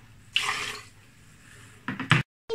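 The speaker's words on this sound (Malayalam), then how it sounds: "ക്യാരറ്റ് വേവിച്ച വെള്ളം ഒഴിച്ചെടുക്കാം." Carrot cooking water poured into a mixer jar gives a short splashing gush, then a quieter trickle and a few brief louder splashes near the end, close and alone.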